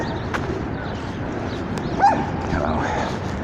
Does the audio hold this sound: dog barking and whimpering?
yes